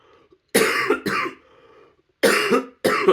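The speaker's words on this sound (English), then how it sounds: "Sorry about that for that coughing" A person coughs close by in two bursts, each a pair of harsh, throaty coughs separated by a short silence.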